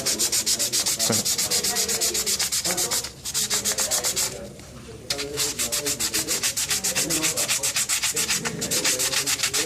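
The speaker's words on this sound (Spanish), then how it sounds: "Entonces vamos a pulir esta" Continuous abrasive rubbing of a hardened, heat-treated steel piece being polished, loud and steady in fast rhythmic strokes, with a short pause near the middle before the scraping resumes.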